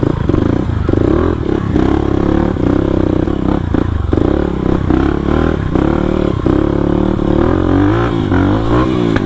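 Close, continuous engine drone of a supermoto motorcycle ridden off-road on a mountain trail at Tangkuban Parahu, with constant rattling and scraping over rough ground and occasional throttle changes.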